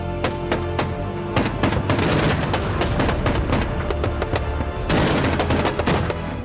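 Explosions and blasts from Russian missile strikes on Kyiv during the Russia-Ukraine war: a dense, loud barrage of sharp cracks and booming bursts in rapid succession, continuous and chaotic throughout with no talk.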